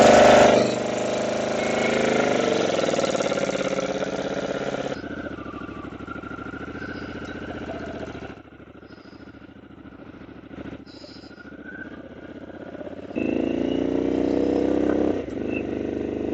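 Motorcycle engine running close by as the rider sets out on a slightly wet road, a steady throaty drone that dips into a quieter idle midway before rising again with revs near the end.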